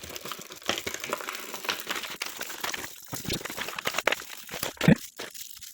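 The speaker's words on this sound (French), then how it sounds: "on a cette espèce de papier d'alu qui fait un peu couverture de survie" A thin aluminium-foil-like sheet from a 1999 Lanard S.T.A.R.FORCE toy set crinkled by hand, giving close, continuous irregular crackling and rustling with several sharper crunches.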